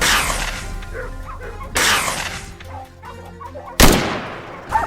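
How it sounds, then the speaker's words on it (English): Gunshots ring out during a wild boar hunt in a swamp: loud sharp blasts at the start and twice more a couple of seconds apart, with dog barking and animal calls in between. "the deafening sound of gunfire erupted from the foot of the hill"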